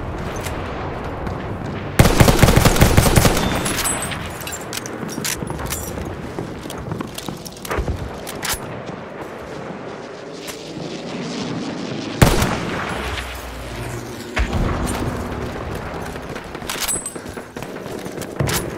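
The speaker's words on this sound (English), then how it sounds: "Machine gun, one of theirs." Rapid machine gun fire mixed with other gunfire and blasts in a Battlefield 1 battle, with loud bursts crackling steadily over a dense, continuous wash of combat noise.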